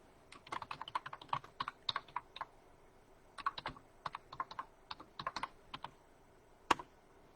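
Someone types on a computer keyboard in irregular bursts of quiet, close key clicks, with short pauses between words and one sharper keystroke near the end, and no talking.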